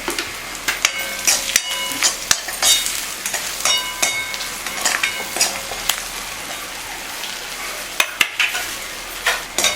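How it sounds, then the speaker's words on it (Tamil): Chilli chapati pieces tossed with masala in a hot pan, a steady sizzle and frying hiss broken by repeated scraping stir strokes and occasional clinks of the spatula against the metal, close and fairly loud, with no talking. "2 முறை கிளறி கொடுத்துட்டு"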